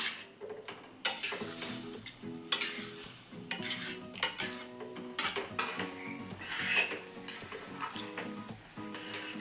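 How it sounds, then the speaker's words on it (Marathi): Potato halwa (sheera) being stirred in a pan: repeated scraping and clinking of a spoon against the metal pan, with a soft sizzle throughout and musical tones playing underneath. "आपल्याला असं हे हलवत राहावं लागणार आहे कारण ते खाली लागू नये म्हणून"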